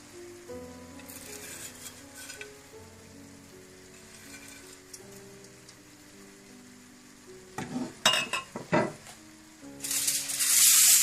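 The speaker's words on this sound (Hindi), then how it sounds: "और प्याज जो हमने फ्राई करके रखे हुए थे वो डाल दें।" Fried onions are tipped into a hot degi chicken biryani pot, setting off loud crackling sizzles in bursts near the end, while a steady background melody plays.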